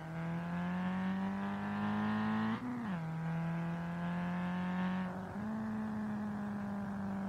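A car engine in Street Legal Racing Redline holds a steady, loud droning rev, dips briefly as the pitch shifts, then climbs and settles again, heard alone without any talk.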